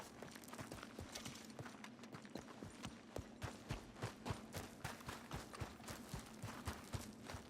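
Horse hooves clip-clop steadily in Red Dead Redemption 2, a quick rhythmic run of close, distinct hoofbeats lasting throughout.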